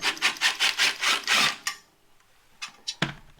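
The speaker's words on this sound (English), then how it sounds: "Just taking off 2 screws." Two screws being backed out with a hand tool during an RV solar power install, heard as a quick run of rhythmic raspy scraping turns followed by a few faint clicks and a sharper knock, with no talking.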